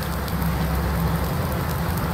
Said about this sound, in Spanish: Llueve, llueve.